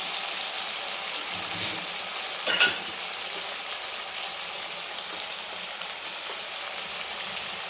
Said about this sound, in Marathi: आपण तेलामध्ये चांगलं परतून घेणार आहे हळद टाकून घ्यायची आहे थोडीशी